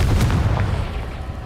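A Confringo fire spell going off in Hogwarts Legacy, heard as one deep rumbling boom that fills the whole short stretch, loud and close with no talk over it.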